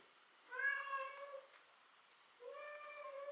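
A house cat gives two clear, drawn-out meows separated by a short pause. The calls are close but quiet in a silent room.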